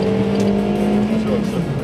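A Mazda 3 closes in on and overtakes a Renault Megane 2 on the road, its engine a steady, close drone with rising tone heard from inside the car, continuous throughout.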